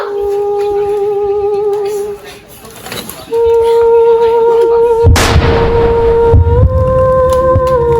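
A single sharp gunshot cracks out partway through a staged drama scene, loud and sudden over sustained tonal music and agitated voices.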